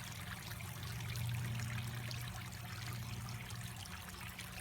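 A koi pond waterfall runs outdoors in a snowy Minnesota yard, giving a steady, close trickling and splashing of water that continues evenly with no voices.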